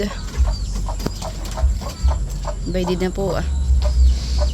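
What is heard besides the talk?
chickens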